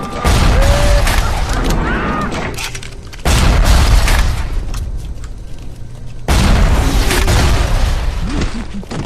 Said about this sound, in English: There's this guy out here throwing bombs somewhere.